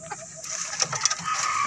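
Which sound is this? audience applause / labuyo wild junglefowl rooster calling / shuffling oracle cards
labuyo wild junglefowl rooster calling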